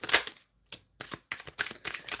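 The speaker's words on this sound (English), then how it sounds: "I'm shuffling right now for the overall energy for the reading." Tarot cards are shuffled in quick, crisp bursts of riffling and slapping, close and alone, with brief pauses between handfuls.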